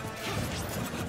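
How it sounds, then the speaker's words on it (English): A forward smash lands point blank during a Super Smash Bros doubles grand finals match, a short crash-like impact burst amid busy game sounds. "Forward smash point blank and doesn't even get punished for it."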